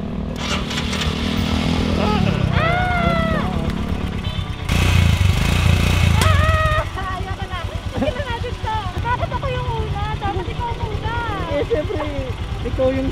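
A Kymco Like 150i scooter starts up and idles, then pulls away with a steady engine hum and rising revs during a relaxed ride along a mountain road, while people talk over it throughout.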